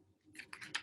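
A strip of paper is folded and creased, giving a few quick, faint crisp rustles close by, with no talking.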